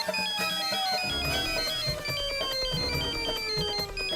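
A mobile phone ringtone plays loudly and continuously, a melodic electronic tune with steady tones over background music and scuffling, in a household domestic scene.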